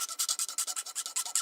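A hand file cuts a chamfer on the edge of a metal part in quick, even back-and-forth strokes, about fifteen rasping passes in steady rhythm, close and moderately loud.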